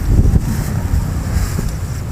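Strong wind buffets the microphone with a low, continuous rumbling roar, gusting slightly throughout.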